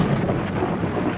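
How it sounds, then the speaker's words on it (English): Thunderstorm sound effect from an audio comic: a low, continuous rumble of thunder with steady rain hiss, loud and close, lasting only a moment with no voices. "a thunderstorm begins."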